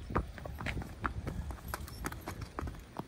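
A 14-year-old dun Quarter Horse mare walks, and her hooves clip-clop in an uneven rhythm of close, sharp footfalls over a quiet background.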